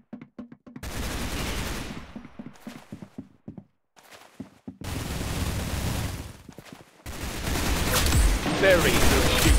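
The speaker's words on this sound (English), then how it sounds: "Very good shooting." Gunfire in the Roblox game Arsenal comes in rapid bursts of shots separated by short silences, ending in a long sustained volley, loud and close.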